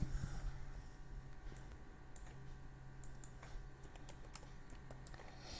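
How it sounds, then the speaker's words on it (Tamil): Keys typed on a computer keyboard while entering line text into a PowerPoint slide: a quiet, steady run of light clicks with irregular sharper taps, alone over faint room hum. "லைனோட டெக்ஸ்டையும் இங்கே டைப் பண்ணிக்கலாம் ஃப்ரெண்ட்ஸ்"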